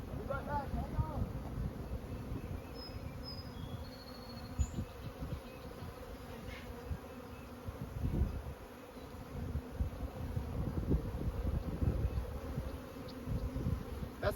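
Honey bees buzz around a beehive outdoors, a continuous low droning hum with a few bees passing close, mixed with wind and handling noise.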